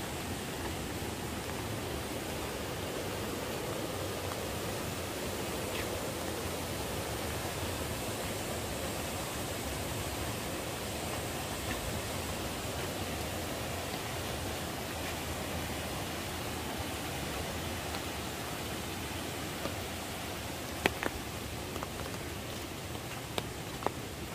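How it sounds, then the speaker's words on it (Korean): Rushing water from a high, full mountain valley stream on the trail from Guryongsa temple toward Seryeom waterfall. A constant, dense roar holds steady and close throughout, with a few faint knocks near the end. "물소리가 대단하죠."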